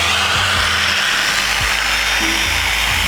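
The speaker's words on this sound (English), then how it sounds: "the easiest way of doing this is with a vacuum cleaner. So get this on, turn the speed to a slow speed" A vacuum cleaner runs at a slow speed while faded car paint is being revived with compound, giving a steady broadband whir with low-frequency hum and occasional bumps, close and continuous with no talking.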